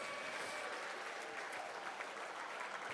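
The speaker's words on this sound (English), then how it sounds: "give yourselves a round of applause for being amazingly generous" Audience clapping steadily at a conservation fundraiser dinner, a dense, even burst of applause filling the room for about three seconds with no talk over it.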